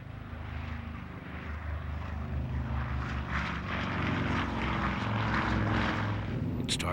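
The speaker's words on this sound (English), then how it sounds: "a B-29 named Enola Gay, after the captain's mother, took off from the Mariana Islands." A World War II B-29 bomber takes off from the Mariana Islands in 1945, its propeller engines producing a steady, loud droning roar that swells slightly throughout.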